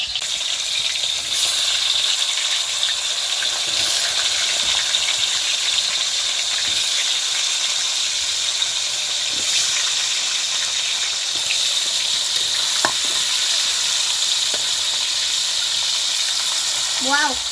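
Shark fish for sambal fries in a pan, giving a steady bright sizzle and hiss that runs continuously, with occasional clinks and brief voices in the background.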